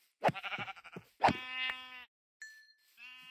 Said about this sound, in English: Oh yes, we'll take another sheep now.